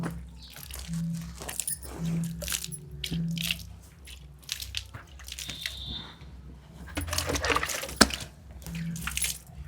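Water is sprinkled onto a mud floor in a village home, giving faint wet splashes and squelchy crunches in scattered bursts, with soft thuds and low background noise around them.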